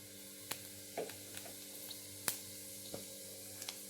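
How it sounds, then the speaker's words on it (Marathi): Cumin seeds dropped into hot oil crackle and sizzle softly under a faint steady hiss, with scattered small pops and ticks spread through the quiet background. "तर आता तेल गरम झाल्यानंतर आपल्याला थोडेसे जिरे टाकून घ्यायचे आहे याच्यात"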